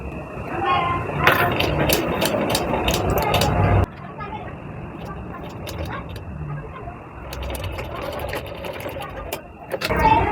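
A sewing machine stitches a blouse in bursts of rapid mechanical rattling, pausing and restarting, with someone talking over it.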